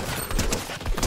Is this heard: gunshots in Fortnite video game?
yes